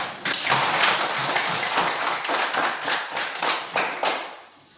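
Classroom of students clapping their hands, loud and close at first, then breaking into uneven separate claps that fade out near the end.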